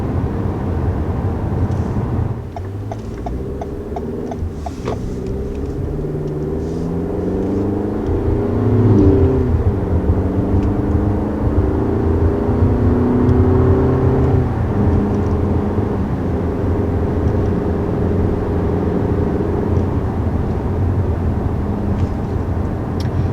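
A 2020 Toyota Camry's basic engine pulls under acceleration while driving, a steady rising hum with road and wind noise filling the cabin, loud and continuous throughout.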